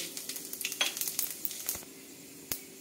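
Bay leaves and dried chillies hit hot mustard oil, giving a brisk crackling sizzle with quick spatter pops and a few utensil clinks against the pan, short and close.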